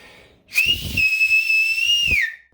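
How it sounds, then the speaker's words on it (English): A loud, sustained mouth whistle made without fingers holds one steady high pitch for under two seconds, then bends downward at the end, with brief breathy sounds around it. "moving it back and forth till you can hear it start to whistle"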